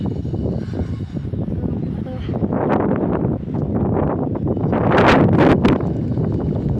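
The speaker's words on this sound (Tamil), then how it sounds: "காற்று ரொம்ப அடிக்குது." Strong wind blows hard, buffeting the microphone with a loud, rough, continuous roar that builds in gusts toward the end.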